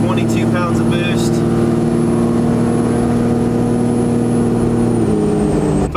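A red 12-valve Cummins diesel truck engine drones loud and close from inside the cab, a steady low rumble with harmonic tones that shift slightly near the end, while a person talks over it.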